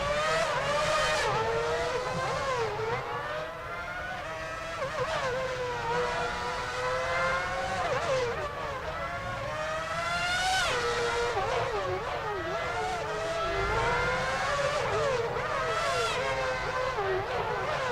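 Formula 1 cars race around the Monaco street circuit in the F1 2006 video game, high engines whining and shifting pitch in overlapping passes at a steady, loud level for the whole stretch with no gaps.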